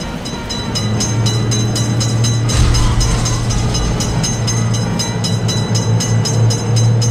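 A train rolls past at a railway crossing in a mobile crossing-gate game, a steady loud rumble with a low drone and repeated rhythmic clacks, joined by a broader burst of noise midway.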